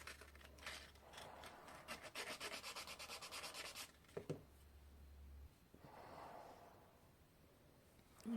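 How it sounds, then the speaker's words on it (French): Sanding a piece to smooth out raised air bubbles: a steady rhythmic abrasive rubbing for several seconds, then pauses with a couple of brief scrapes and a softer stretch of rubbing near the end. "Pour que ça soit lisse, il faut la poncer."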